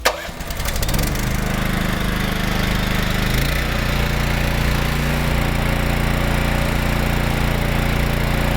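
A BOSS Snowrator engine starts up and runs steadily at a constant pitch, left idling to burn off the last of its fuel and drain the carburetor, a loud, continuous mechanical hum with no talk.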